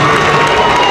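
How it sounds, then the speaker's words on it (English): Charleston and Notre Dame fans at a basketball tournament final cheer loudly, a dense continuous crowd roar filling the brief moment. "Big cheer from the Charleston fans, the Notre Dame fans cheering as well for him"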